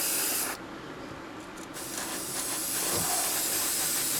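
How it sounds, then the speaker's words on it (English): A steady chrome aerosol spray paint hisses in close, long continuous bursts with a brief pause, loud and breathy, coating toy model wheels. "we're going to spray them with the Molotow"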